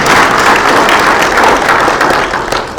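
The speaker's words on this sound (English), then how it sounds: "Please give her a round of applause." Applause from an audience at an annual meeting, a dense, steady wash of clapping filling the whole stretch at close range and fading slightly at the end.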